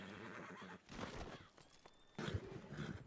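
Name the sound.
horse neighing in a video game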